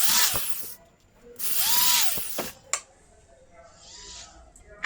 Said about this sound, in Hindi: ये नट भी कस देते हैं